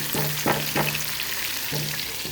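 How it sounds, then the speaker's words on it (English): Onion sautéing in hot grease for a stewed chicken, a steady close sizzle broken by a few sharp stirring scrapes, with no talking. "this is the grease we're going to add our onion to. We're going to saute that down"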